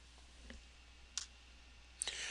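Two faint, separate mouse clicks on a computer in a quiet room, a short pause between them and no talking.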